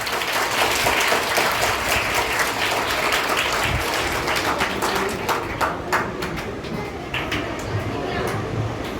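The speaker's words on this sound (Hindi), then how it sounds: "आप अपने सभी शिक्षकों की जोरदार ताली बजाइएगा।" An audience at a Teachers' Day programme at an intercollege in Gonda claps for the teachers, a sustained, dense round of applause from a large crowd that thins slightly toward the end, with voices mixed in.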